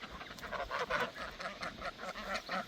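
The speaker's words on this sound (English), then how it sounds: "Come on, bring your ducks to the beach." Ducks quack in a steady, moderately close series of calls at a pond's edge, with several birds overlapping.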